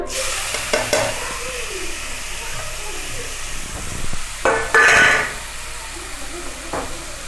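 Mushrooms go into hot oil with mustard paste in a Bengali-style fry, a close sizzling hiss with a louder splash of frying about two-thirds through, and a voice briefly speaking over it.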